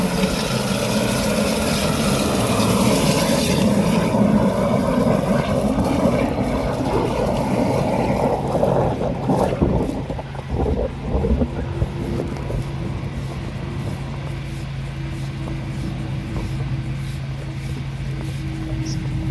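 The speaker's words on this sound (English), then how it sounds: "going with a forward-facing turbo nozzle here, just to blast the hell out of any sand and any roots that may be lurking down the drain" A drain jetter pushes high-pressure water through a forward-facing turbo nozzle to clear sand and roots from a blocked drain, a loud, steady roaring rush with a deep engine drone underneath that continues without break.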